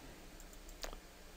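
A single sharp computer mouse click sounds near and clear over a quiet background hum, followed by a faint softer tick.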